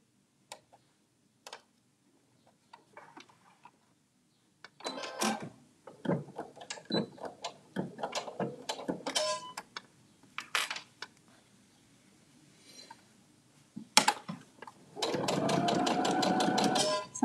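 A sewing machine with a zipper foot stitches a zipper pouch, with scattered clicks and short bursts of needle chatter, then a longer steady whirring run near the end, all close by.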